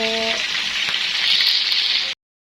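Loud, steady crackling sizzle of food frying in hot oil, close up and continuous, ending abruptly; a brief voice is heard at the start.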